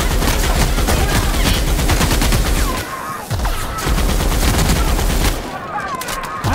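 Enemy gunfire in The Outer Worlds comes as dense, loud, close bursts of rapid shots and booms. A short lull near the middle is followed by more volleys.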